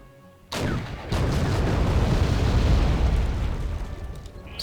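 Artillery fire pounds woods in Wargame European Escalation: a sudden loud blast followed by a sustained, heavy rumble of continuous explosions that slowly tapers.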